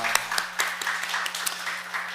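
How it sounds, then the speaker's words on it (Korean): A church congregation at a Sunday morning service applauds briefly, a short burst of clapping over a steady low hum, moderately loud. "하나님께 한번 미리 감사의 기도를 박수로 한번"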